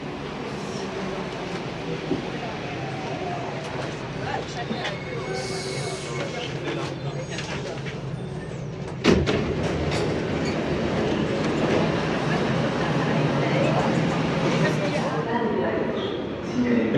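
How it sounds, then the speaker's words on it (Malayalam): An airport-bound metro train at a station rumbles steadily nearby, with a sharp clank midway and then louder rolling noise and faint wheel squeal, while people talk over it. "ബി ഇവിടെ എയർപോർട്ടിലേക്ക് പോകുന്ന ട്രെയിനാന്ന് തോന്നുന്നു"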